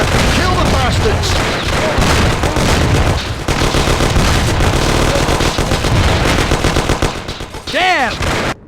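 Loud, continuous gunfire from the video game Mafia: rapid machine-gun bursts and overlapping shots fill the whole scene, with shouting voices mixed in and a short lull near the end.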